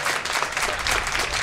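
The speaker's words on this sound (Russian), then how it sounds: "Давайте еще чуть побольше ваших аплодисментов" Beach tennis spectators applaud at the close of a match, a dense, continuous wash of clapping at steady volume for the whole moment.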